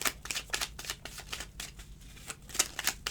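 Tarot cards being shuffled for a general reading, a fast run of soft riffling flicks and slides, close and quiet with no talk.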